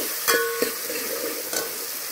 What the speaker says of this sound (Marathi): त्यामध्ये आता मी हा कापलेला एक टोमॅटो असा टाकत आहे. हा आता थोडा भाजून घ्यायचा आहे.